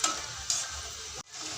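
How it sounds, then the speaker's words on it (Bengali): Thin sticks of raw green banana fry slowly in oil over low heat, producing a soft, steady sizzle with a couple of brief louder spits, close by and without speech. "আঁচ কমিয়ে অনেক আস্তে আস্তে ভাজতে হবে, যাতে ধরে না যায় বা পুড়ে না যায়।"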